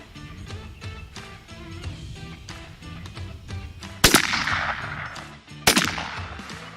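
A .410 shotgun loaded with number 9 shot fires two loud, sharp blasts about a second and a half apart while being sighted in outdoors for turkey season, over a busy background.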